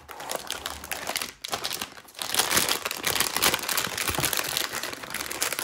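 Packaging of an Asus Phoenix GeForce RTX 3060 graphics card being opened, with steady close crinkling and crumpling of plastic and cardboard, dense and continuous after a brief pause near the middle.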